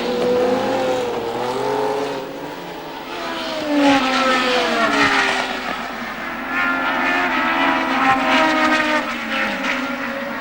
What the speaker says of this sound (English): Rindt pushing his way into 2nd place